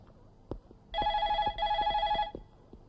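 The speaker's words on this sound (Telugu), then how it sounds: "ఫోన్ రింగ్ అవుతుంది అర్థమే" A telephone rings in two bursts of electronic trilling, loud and close, with faint thumps and background noise in between.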